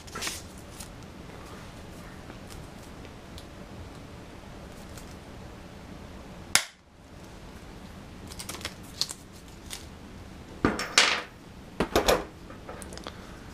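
Hardened steel lineman pliers cut the head off a bolt with one sharp, loud snap midway, surrounded by faint clicks and handling noises at a quiet workbench.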